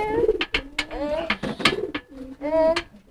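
A pigeon coos close by in a series of soft, throaty, rising-and-falling calls with brief gaps, heard alone during a pigeon-training outing.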